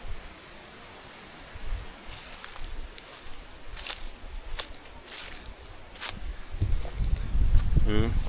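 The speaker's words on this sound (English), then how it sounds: "A lot of wind, meaning rain is coming." Strong gusting wind before rain in a village, a broad rushing roar with rustling bursts that grows louder toward the end, heard outdoors with people talking nearby.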